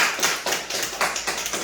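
A church congregation at a Friday worship service claps together in a quick, steady rhythm, loud and close with no voices over it.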